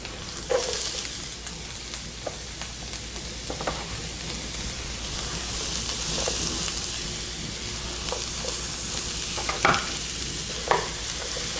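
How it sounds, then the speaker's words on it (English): Onions hitting hot oil in a hot pan, a dense steady sizzle and crackle with occasional stirring scrapes, close and continuous without any talking. "Hot oil, hot pan. Here come the onions."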